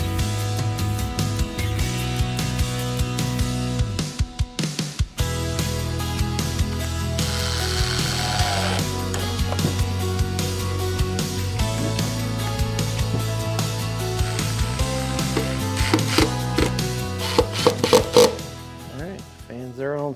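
Power saw cutting wooden boards for a soundproof generator box, whining bursts of blade noise that start and stop with tool clatter and mechanical rattles between cuts, loud and close.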